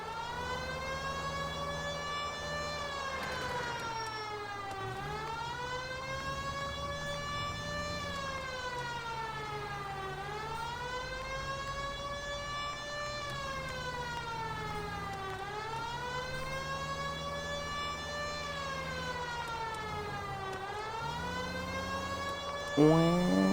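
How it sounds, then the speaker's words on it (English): A video game police siren in L.A. Noire wails, rising and falling in long, steady sweeps, loud and continuous, with a low engine-like rumble underneath and no talking. "the sirens in this game"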